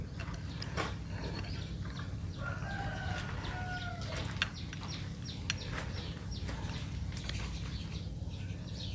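Chickens cluck and a rooster crows over a constant background hum, with scattered clucks and short calls spread across the stretch and no voices.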